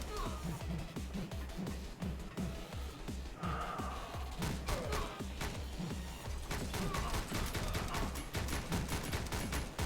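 Rapid video game gunfire from a side-scrolling shooter, bursts of repeated shots in a quick rhythm layered over a thumping game soundtrack, loud and continuous.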